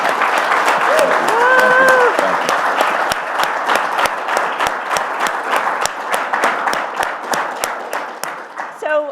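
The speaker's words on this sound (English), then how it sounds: "join me in a huge round of applause for Rudy" An audience claps steadily after a talk with a sports industry figure, dense applause with a few cheers, a brief voice at the start, fading near the end.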